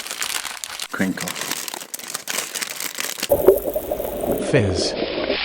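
Crinkling sound effect, close and loud crumpling and crackling that starts scattered and turns denser in the second half.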